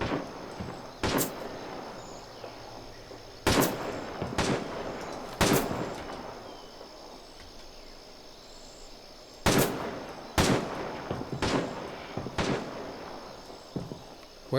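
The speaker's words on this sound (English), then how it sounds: "We're taking fire from multiple directions!" Gunfire in a weapons-training setting featuring a Steyr AUG rifle, with sharp single shots and quick pairs spread irregularly over the stretch, some loud and close and others more muffled, with no talking.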